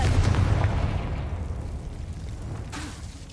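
A Confringo fire spell explodes in Hogwarts Legacy, a loud, rumbling blast at the start that rolls and decays over a few seconds, with a small crackling burst near the end.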